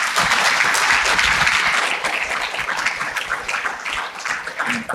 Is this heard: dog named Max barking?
no